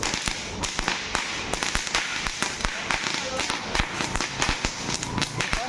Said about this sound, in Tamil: நம்மளுக்கு ஜாலியாக ரோல் கேப் போட்டு அடிக்கிறான் பாருங்க